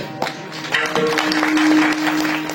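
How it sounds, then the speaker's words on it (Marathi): Crowd applause at a Varkari devotional gathering in Maharashtra, a steady dense patter of many hands clapping that swells slightly in the middle, with a faint voice underneath. "टाळ्या जरा हळू वाजवा, तुमचे हात फ्रॅक्चर होतील."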